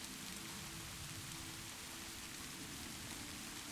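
Soft, steady rain falls continuously outside a cabin at night, a constant even hiss with no gaps, low in level and heard alone without voices.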